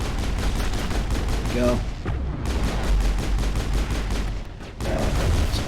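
Pistol fire in the Mass Effect video game, a loud run of rapid gunshots packed into a dense, constant battle mix, with brief talk over the shooting.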